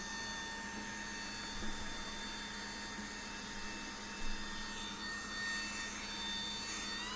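Lydsto handheld vacuum cleaner running continuously with a steady whine and airflow hiss, a few small bumps along the way, heard close and alone.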